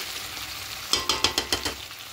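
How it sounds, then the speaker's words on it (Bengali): Kadai chicken masala being stir-fried with sugar in a kadai, a steady sizzle with a run of sharp, rhythmic scraping stirs starting about a second in, close and fairly loud, with no talk. "তো চিনি দিয়ে আরও একটু কষিয়ে নেব।"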